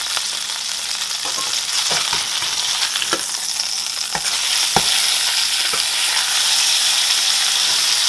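A burger patty frying on a stovetop pan over medium-high heat, a bright, steady hiss of sizzling fat with occasional sharp pops and crackles, close and continuous.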